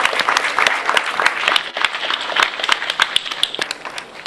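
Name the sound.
round of applause from ceremony audience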